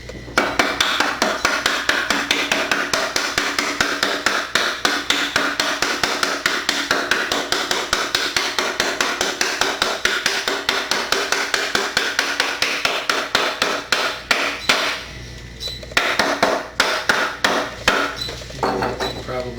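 A hammer drives a wooden leg vise nut into a mortise with a long run of rapid, sharp, evenly spaced blows, loud and close, the pitch of the strikes shifting near the end as the nut bottoms out.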